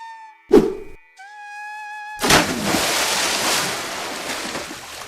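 Sea waves wash in with a broad hissing surge that swells and lingers after a short thump and brief tonal sounds, steady surf noise carrying to the end.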